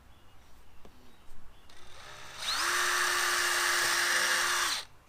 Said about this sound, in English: First we're going to pre-drill.